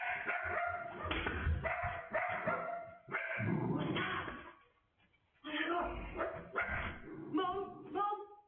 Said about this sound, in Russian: Их щенки часто проявляют безумное поведение, громко лают и поспешно ищут укрытие в помещении